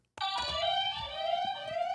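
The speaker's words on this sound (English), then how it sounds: "I keep forgetting to hit the buzzer" A quiz show buzzer on a morning TV game segment blares suddenly and holds a steady, loud, harmonic electronic tone for nearly two seconds, alone without talk.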